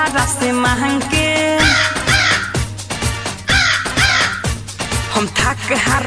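A crow cawing effect inside a Bhojpuri Raksha Bandhan song repeats as sharp, harsh caws roughly every half second, loud and upfront, layered over steady drums and melodic backing music.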